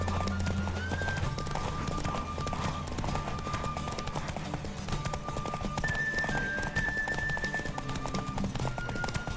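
Steady hoofbeats of a galloping horse in The Witcher 3: Wild Hunt with occasional whinnies, over a dense, continuous game soundscape with music-like tones.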